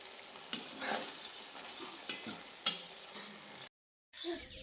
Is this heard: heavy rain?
no